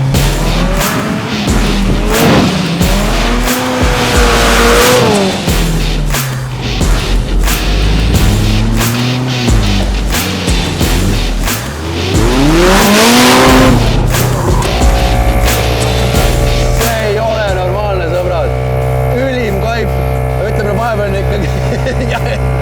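Loud engine of a 4x4 offroad car with a turbocharged Honda engine roaring and revving hard during an endurance race, rising and falling pitch as it accelerates, tires scrabbling, close and continuous, with a voice briefly audible.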